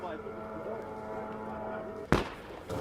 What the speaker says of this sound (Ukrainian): По нам стріляють.